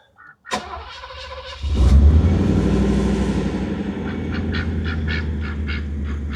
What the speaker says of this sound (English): I do love the sound of that engine.